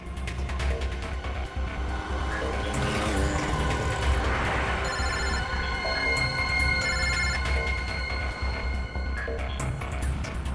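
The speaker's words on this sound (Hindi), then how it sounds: "फोन कर, जल्दी फोन कर उसको।" A phone rings continuously in a scene from a Hindi crime drama, a repeating electronic ringtone that holds steady at moderate loudness over a busy background throughout.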